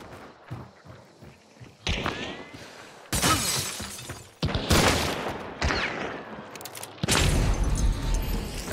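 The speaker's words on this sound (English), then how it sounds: "Another flash bomb." Flash bombs going off in a shooter video game, several sharp loud blasts with shattering, crackling bursts spaced a second or so apart, close and dominant.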